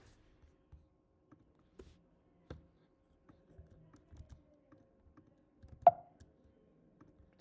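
Sparse, irregular clicks of a computer keyboard as someone types slowly at a desk while testing a login screen, quiet and close, with one louder sharp tap near the end and no talking.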